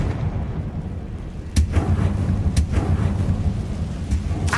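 A Confringo fire spell in Hogwarts Legacy, with three sharp cracking blasts spaced about a second apart over a rumbling, noisy game background, close and loud, no talk.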